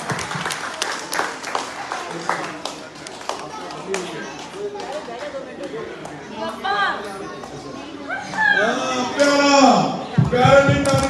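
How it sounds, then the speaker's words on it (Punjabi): Applause and clapping at a Manukhta Di Sewa Society gathering in Ludhiana, mixed with lively crowd chatter and children's voices. It builds toward the end as the clapping and voices grow louder. "ਤਾੜੀਆਂ ਭਾਈ ਤਾੜੀਆਂ"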